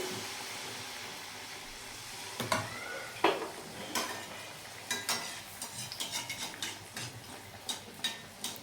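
Banana malpua fries in a pan, a soft sizzle under repeated clinks and scrapes of a utensil against the pan, close and fairly quiet, with irregular taps spaced through the stretch.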